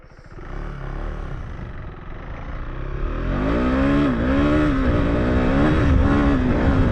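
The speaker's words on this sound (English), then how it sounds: "Oh, this is full throttle with the traction control turned on." A KTM 390 Enduro R dual-sport motorcycle accelerates at full throttle with off-road traction control on, its engine note climbing loud and close through rising revs and a gear change as it pulls harder.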